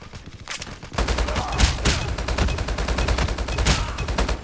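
HBRa3 assault rifle fire in Call of Duty: Mobile starts after a brief quieter moment, then sustained rapid automatic bursts rattle on loudly, with short breaks and renewed volleys.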